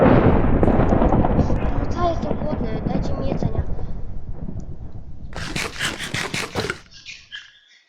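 A deep, rolling rumble of video game thunderstorm thunder in Tornado Survival fades out slowly, followed by a short burst of rapid clicking.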